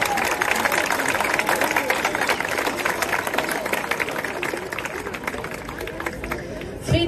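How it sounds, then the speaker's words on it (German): An outdoor crowd at a Free Palestine demonstration in Bremen applauds to welcome a speaker, a sustained dense rush of clapping with crowd noise mixed in, ending in a brief sharp sound. "Und dann würde ich euch alle einmal bitten, mit einem kräftigen Applaus Hanna Tayyip willkommen zu heißen."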